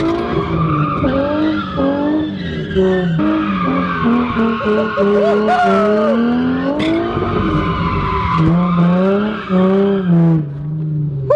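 A junkyard-rebuilt Nissan 350Z with a loose, damaged rear bumper drifts hard, its engine howling at high revs and tires squealing almost without pause, the pitch climbing and falling as the car slides. The sound is loud and close throughout.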